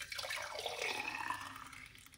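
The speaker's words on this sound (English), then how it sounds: "Pour it out." Carrot and beetroot juice being poured out, a steady splashing liquid stream close by, fairly quiet and continuous, tapering off near the end.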